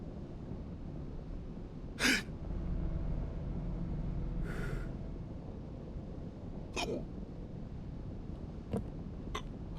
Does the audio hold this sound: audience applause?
no